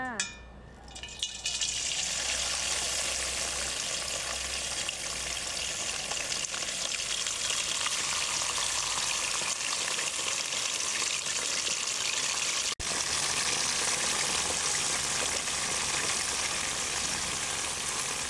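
Silkworm pupae frying in hot oil, giving a loud, dense, continuous crackling sizzle that starts after a brief quieter moment and holds steady throughout, broken only by one short dip.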